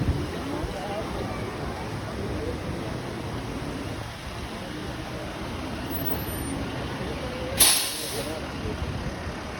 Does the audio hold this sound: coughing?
no